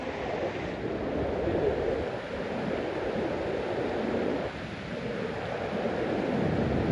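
Strong river current rushing past Jamergal Dam on a rainy day, a continuous broad roar of flowing water with wind buffeting, close and loud, no voices.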